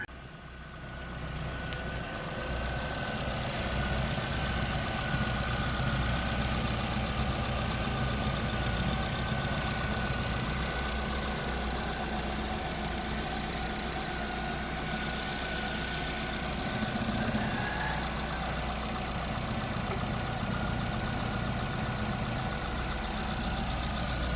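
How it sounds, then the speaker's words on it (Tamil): A car engine idles steadily and smoothly for the whole stretch, a constant low rumble with a faint hum, close by and without talk. "நம்ம அந்த வண்டியோட இன்ஜினை ஸ்டார்ட் பண்ணி இன்ஜினோட சவுண்ட் எப்படி இருக்குன்றதை"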